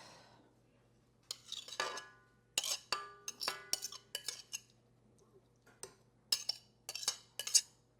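Sugared morning bun dough gets mixed in a bowl, with irregular clinks and scrapes from a utensil knocking against the bowl, close and fairly quiet, plus a low steady hum beneath.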